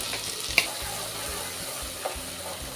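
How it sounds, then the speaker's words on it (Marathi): Ground masala paste fries in oil over medium heat for mutton curry, a steady soft sizzle with faint scraping stirs and a couple of light clicks from the spoon. "एक दोन मिनटं आपण व्यवस्थित हे परतवून घ्यायचं आहे आणि मीडियम फ्लेगेवरच आपल्याला हे परतवून घ्यायचं आहे"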